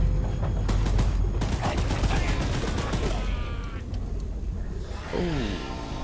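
A machine gun rattles in the Choo-Choo Charles video game, firing a rapid, loud burst of shots for about three seconds before giving way to quieter game sounds and a sliding mechanical tone.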